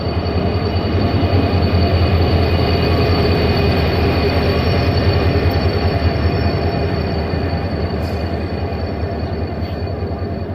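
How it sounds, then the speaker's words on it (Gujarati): An Intercity Express train hauled by a WDP-4D diesel locomotive arrives, with a loud, steady rumble of the engine and rolling wagons held close throughout and faint wheel squeal toward the end. "થોડીક વાર રાહ જોતા અમારી ટ્રેન આવી ગઈ છે WDP-4D લોકોમોટિવ સાથે."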